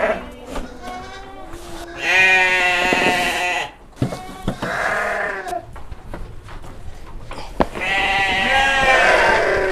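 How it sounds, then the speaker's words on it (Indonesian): Sheep bleating loudly and repeatedly in a livestock breeding pen, their harmonic cries overlapping in bursts, with a distant call to prayer and brief talk underneath. "Kalau domba lapar cerewet ya?"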